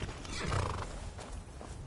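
A horse in a video game whinnies, its neigh rising over a steady clip-clop of hooves, close and fairly loud.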